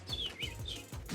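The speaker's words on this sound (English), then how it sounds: "This was like birds chirping" Apple notification tone built from chirping birds: short, bright high-pitched tweets in a quick series over about a second, fairly loud and alone.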